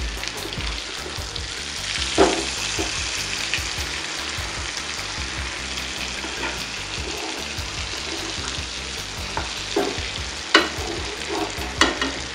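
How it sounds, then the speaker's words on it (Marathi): Goat brain frying in a covered pan on its second side, a steady close sizzle with scattered sharper pops and crackles throughout, no voices. "5 मिनिटानंतर आपण झाकण ओपन करून याची दुसरी बाजू देखील फ्राय करून घेणार आहोत।"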